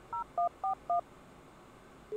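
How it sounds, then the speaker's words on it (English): Cell phone keypad dialing tones in a video game, four short electronic beeps in quick succession, then a pause before a fifth tone begins, clear and isolated against a faint background. "You're going to make me call with my cell phone?"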